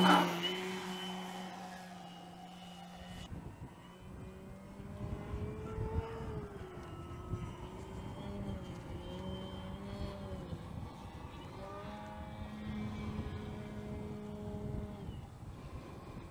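An Extreme Flight Edge 540 RC airplane takes off and flies, its electric motor whining loud near the start, then rising and falling in pitch as it passes at a distance through the air.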